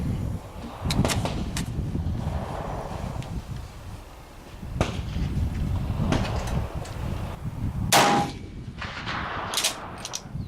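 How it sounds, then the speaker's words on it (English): A K31 rifle fired at an outdoor range, several sharp reports spaced a few seconds apart against a noisy, windy background, with no speech. "Take another shot at the target."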